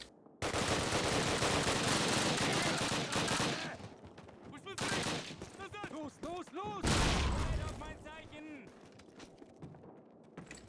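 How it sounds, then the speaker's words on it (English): Sustained Call of Duty gunfire, a long loud stretch of rapid automatic shots followed by more bursts, while someone talks in excited bursts between and over the shooting. "They're shooting me through the roof!"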